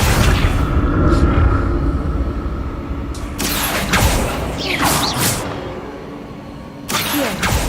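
Confringo fire spells are cast in Hogwarts Legacy, landing as several loud, booming blasts over a constant rumbling game background, with bursts clustered in the middle and another near the end.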